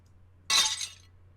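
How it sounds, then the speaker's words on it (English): Glass shatters as a thrown clock breaks in the visual novel Fate Stay Night: one sharp, bright crash with a short tinkling tail over a low steady hum. "The sound of shattering glass is more annoying than he thought"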